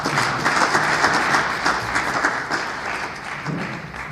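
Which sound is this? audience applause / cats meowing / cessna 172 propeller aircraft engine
audience applause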